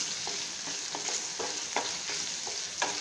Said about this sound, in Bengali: খুব ভালোভাবে ভেজে নিতে হবে হালকা হাতে ভেজে নিতে হবে